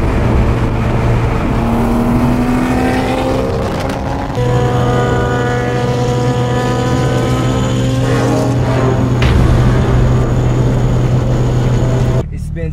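A car backing up out of a car wash, steady engine hum with a shifting tonal whine and a brief rev, heard close and continuous while people talk over it.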